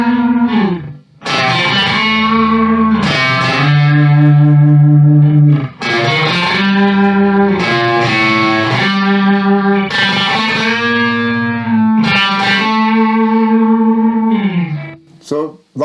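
A Gibson Les Paul electric guitar runs through a Marshall SV20H amp with no pedals, playing sustained chords and single notes with a dry, moderately driven tone, loud and close, with short pauses between phrases.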